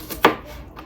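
A knife chops vegetables on a cutting board while chili is being prepared: one sharp, clear chop stands out, with a lighter tap just before it and another faint tap after, set against quiet kitchen background.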